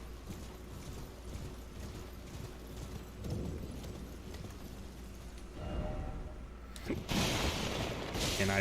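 Galloping horse hooves in Elden Ring, a steady rhythmic clip-clop carried under game ambience and sound effects, joined by louder bursts of noise toward the end.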